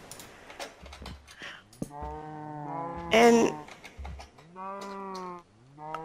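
Cows in the video game Minecraft moo several times in a row, with short gaps between the calls, over faint game noises and a single spoken word.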